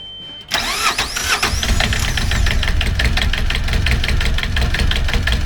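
A sailboat's engine sputters to life after a brief quiet moment, then runs loudly and steadily with a rapid knocking rhythm.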